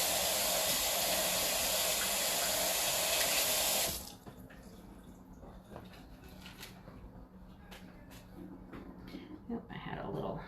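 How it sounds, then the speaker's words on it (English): Tap water runs loud and steady for the first four seconds while hands are washed under it in a home kitchen, then cuts off, leaving quiet room noise with faint clicks and shuffling. "let me wash my hands real quick"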